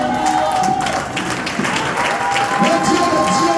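A church congregation bursts into steady applause and cheering for Jesus Christ, a dense crowd of clapping hands held at full loudness throughout, with voices mixed in.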